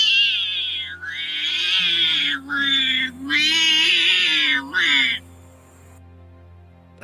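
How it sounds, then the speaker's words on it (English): A recorded ocelot kitten calls in a run of shrill, wavering mewing cries, loud and close, with short gaps between the calls, followed by silence. "This is an ocelot kitten."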